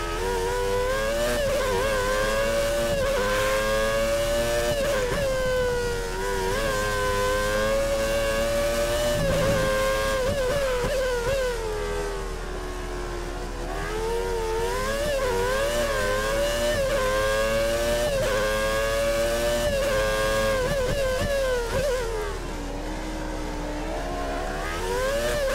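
A Formula 1 race car engine held at full throttle on the Bahrain circuit in a racing video game, loud sustained high-pitched whine that rises and dips slightly with gear changes, with no talking.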